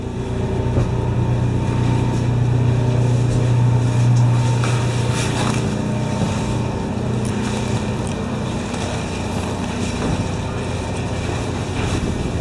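A boat's generator, cooled by river water, hums steadily aboard, a continuous low mechanical drone with faint wind noise, unbroken for the whole stretch.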